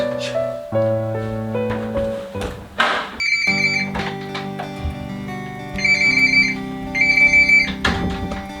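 A phone ringtone plays loudly in a series of bright electronic melodic phrases over about eight seconds, with no voices.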